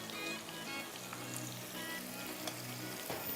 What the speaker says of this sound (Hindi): प्याज के साथ ये थोड़ा सा फ्राई हो जाएंगे